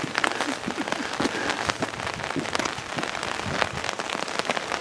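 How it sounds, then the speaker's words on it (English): Rain falls steadily outdoors in Vermont in October, a dense patter of drops on surfaces that stays loud and continuous throughout, with no talk. "Needless to say, it's raining."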